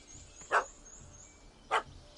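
A dog in The Witcher 3 barks at a cat up a tree, two sharp separate barks about a second apart, fairly close, over a quiet ambient background.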